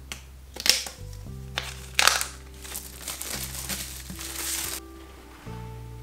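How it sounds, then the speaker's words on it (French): Crinkly plastic packaging is torn and crumpled as a book is unwrapped, with a few sharp rustling bursts over quieter handling noise and a faint electronic tone in the background. "je vais le déballer et je vais commencer ça tout de suite"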